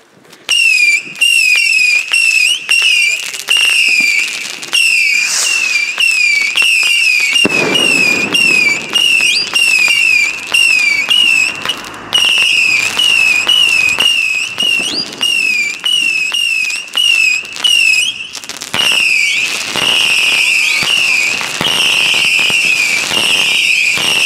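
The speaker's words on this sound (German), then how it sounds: "Heute gibt es für euch die Lord of Whistle 300 Schuss 5 Batterie von Weco." Weco Lord of Whistle 300-shot fireworks battery firing a rapid, nearly continuous run of loud shrill whistling rockets, each rising whistle followed by crackling bursts, sustained and close for over twenty seconds with no talk.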